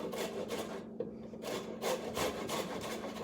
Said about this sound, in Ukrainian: Ви чуєте цей звук хорошої терки, хорошого металу.